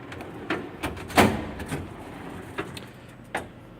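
A drawer slides open amid a series of wooden knocks and rattles, one louder scrape-and-thud in the middle, with scattered lighter clunks before and after, close by and with no talking.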